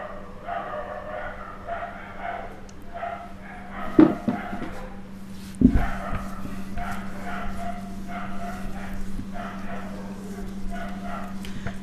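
Dogs barking outside at about 4:30 in the early morning, a few sharp yips and barks standing out around the middle over a steady low hum and distant background noise.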